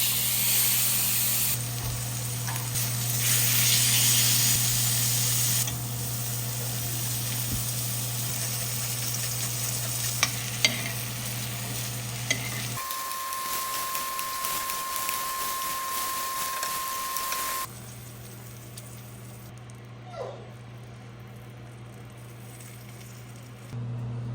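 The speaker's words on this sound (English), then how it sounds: "I'm starting off by searing the little fat edge on the side to kind of render off" A steady sizzle and spray of fat rendering as the fatty edge of a cut of meat sears in a hot pan, continuous for a long stretch with hum and hiss shifting partway through, no speech.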